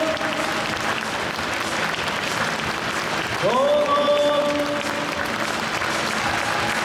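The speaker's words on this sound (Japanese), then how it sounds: "皆さん大きな拍手でお迎えください。" Audience applause welcoming two guests at a rally talk show during Central Rally 2019; steady dense clapping throughout, with a host speaking over it and a brief tonal sting midway.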